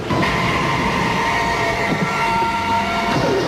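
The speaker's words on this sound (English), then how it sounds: "starring Wesley Snipes and Woody Harrelson, as New York transit cops planning to hijack an armored subway train" An armored New York subway train rushes along the tracks in a film scene, a loud steady rumble with metallic screeching and a faint horn-like tone, no voices.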